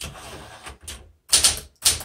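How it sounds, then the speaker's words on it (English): A 1967 Smith Corona Super Sterling portable manual typewriter types in clusters of sharp mechanical key strikes and carriage clacks, close and fairly loud, with a bright bell ding near the end of the line. "That ding told me it was at the end of the line and I needed to change."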